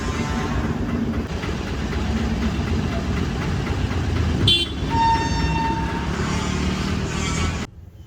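A train arrives under a rumbling engine, and a loud tonal horn sounds twice mid-clip over the steady low drone before the sound cuts off.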